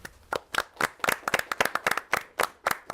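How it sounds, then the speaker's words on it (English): A small studio audience claps for a TV crew at a dating seminar, sparse and uneven individual claps close by with clear gaps between them, no talking over it. "a big round of applause for them"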